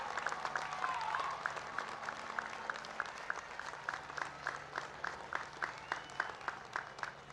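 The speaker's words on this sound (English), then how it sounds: "Applaud them as you stand here to graduate." Graduates at the 2018 Rowan University commencement applaud their families in a large hall, a far, diffuse spread of clapping with periodic sharper bursts running steadily throughout.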